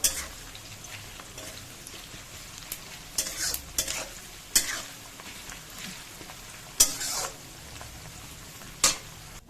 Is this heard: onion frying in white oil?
yes